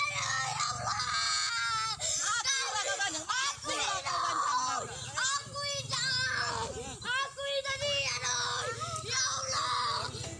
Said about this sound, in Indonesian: Korban berteriak meminta ampun dan menangis agar tidak dianiaya.